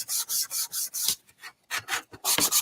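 Sandpaper rubbing along the grain of a wooden tiered tray in rhythmic rasping strokes, about eight back-and-forth passes with short pauses, close and fairly loud with no talking.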